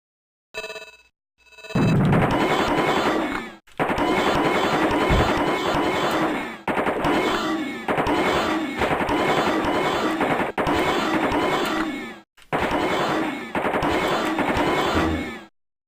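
Sustained assault rifle fire in a video game, loud rapid automatic bursts repeated over and over with brief gaps between strings of shots.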